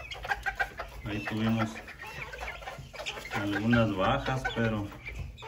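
Miniature Aztec bantam chickens and chicks, a flock recovering from coccidiosis, cluck and peep nearby while someone talks over them, the birds audible between and beneath his words.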